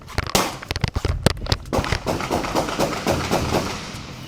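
Gunfire during a police raid on the wrong house: a rapid burst of sharp, loud bangs followed by a dense crackling rattle of further shots, close and harsh, with no speech.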